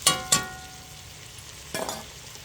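Onions frying in a pan give a quiet background sizzle, broken by a few sharp stirring scrapes, two close together at the start and another near the end.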